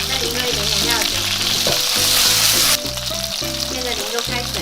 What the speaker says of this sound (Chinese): 煎到表面的金黄了，就来加入几片姜，再淋入一点点料酒